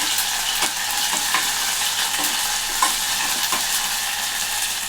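Ginger garlic paste frying in a pan gives a constant dense sizzle, with soft irregular clicks from stirring, close and unbroken throughout.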